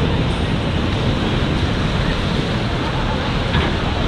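Surf at Walls, a bodyboarding break in Waikiki, Hawaii, makes a loud, dense, continuous wash of breaking water, close and constant across the whole stretch, with no clear speech.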